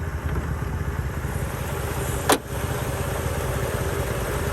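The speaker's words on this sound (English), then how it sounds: "the engine is running smooth" A 2003 Mercedes-Benz E500 V8 idles steadily with a low, even rumble heard up close. It has a broken catalytic converter. A single short click cuts in about halfway through.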